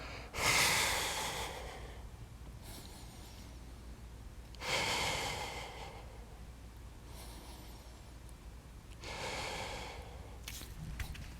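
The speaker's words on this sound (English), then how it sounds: "breathe it out" Slow, forceful exhalations through the nose and mouth during a hip flexor exercise, three distinct breaths spaced a few seconds apart, close and fairly quiet.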